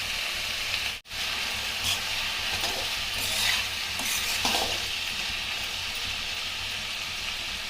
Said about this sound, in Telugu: ఉల్లిగడ్డ ఒక 10 నిమిషాలు ఉడికించుకుందాం.